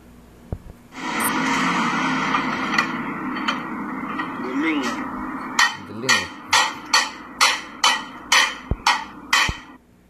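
A run of about ten sharp, evenly spaced knocks, like hammer blows, following a stretch of steady background noise with a brief voice.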